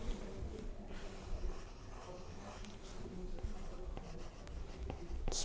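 A pencil drawing a spiral texture on paper for sketching practice, with continuous soft scratchy strokes close by and a low, quiet background hum.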